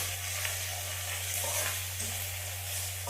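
Field beans (avarekalu) sizzle softly in hot oil in a pan while being stirred for Karnataka-style uppittu, a steady, faint frying hiss with light scraping of the stirring.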